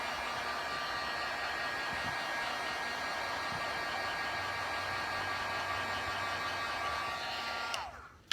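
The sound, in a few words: heat gun drying resin paint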